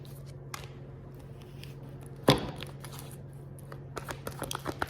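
Tarot cards riffled and handled at close range in a quiet room, a soft papery flutter with one sharp snap of cards midway and lighter flicks and taps toward the end, no voices.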